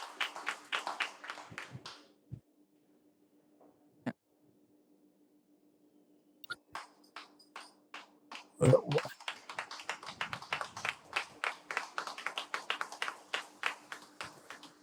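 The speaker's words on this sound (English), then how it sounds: "Can we give her a round of applause for that?" Audience applause at a live talk event, a dense burst of clapping that swells after a pause and carries on steadily for several seconds, preceded by a few stray taps and a bit of talk.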